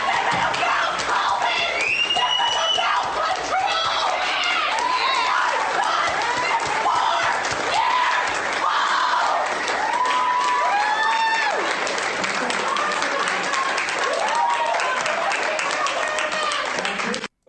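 A TED talk audience of parents gives a loud, sustained ovation, with dense cheering and applause and shouted and screamed voices rising and falling throughout.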